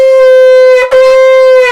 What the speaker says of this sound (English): we would blow both a shvarim and a teruah together in that order